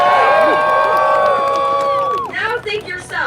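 Youngsters and adults at a live rally in DC cheer loudly and keep going with high, sustained shrieks and whoops. The noise gradually breaks into scattered shouts near the end.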